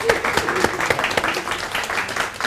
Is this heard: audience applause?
yes